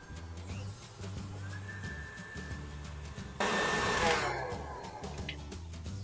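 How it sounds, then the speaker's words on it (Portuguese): An electric mixer whirs steadily while beating cinnamon cake batter, jumping to a louder, harsher roar at maximum speed partway through, close up with no talking. "Agora eu vou bater no máximo por 2 minutinhos."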